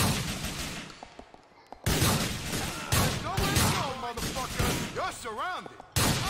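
Gunfire in GTA IV sounds as a series of loud, abrupt shots spaced a second or so apart, with someone talking between and over them.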